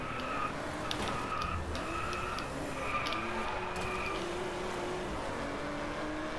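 A Mazzanti Evantra sports car in the DRIVECLUB racing game drives with a steady, moderately loud engine drone that shifts pitch a few times, with light tire and road noise.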